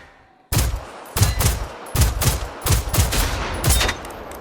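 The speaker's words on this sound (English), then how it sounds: "So that one has a shotgun." Repeated shotgun blasts from a machine enemy in the game Generation Zero, about seven loud booming shots at a steady, slightly uneven pace, each trailing into the next with no talking.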